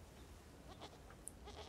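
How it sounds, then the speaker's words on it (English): Goats bleat faintly in the video game Blanc, a couple of soft wavering calls over a low ambient rumble, distant and brief. "I hear goats."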